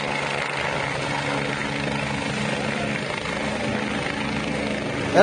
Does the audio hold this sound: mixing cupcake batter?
no